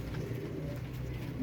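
A Kaldumay pigeon for sale coos softly in a low, steady murmur, faint and close, with no speech over it.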